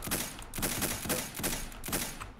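Rapid gunfire from the Roblox game Arsenal, with about five bursts of shots spaced roughly half a second apart, loud and close with no talking.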